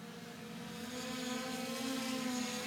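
A drone flies overhead above a house at sunrise, its steady tonal buzz faint but rising slightly as it draws nearer, with no voices.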